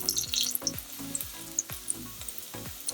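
Chicken pieces brown in hot oil for a curry, a soft sizzle broken by repeated stirring scrapes and little spattering pops at an even rhythm, fairly quiet and with no talking.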